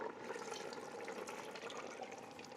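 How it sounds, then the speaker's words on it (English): Beef broth poured into a chili pot of rib meat and pumpkin, a continuous soft splashing pour that stays fairly even and quiet throughout, with no voices. "And now cover with beef broth."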